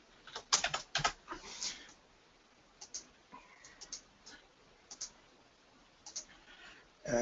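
Typing on a computer keyboard comes as bursts of crisp, close key clicks, a quick flurry at first, then scattered single taps with pauses between, in an otherwise quiet room.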